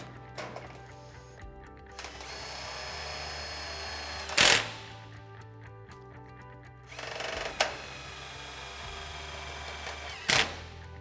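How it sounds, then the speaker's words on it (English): A power drill drives screws to fix steel mesh down to a roof gutter on a Klip-Lok roof, with long whirring runs broken by brief louder bursts as each screw seats, close and alone. "I'm just going to go ahead and screw it down to the gutter now"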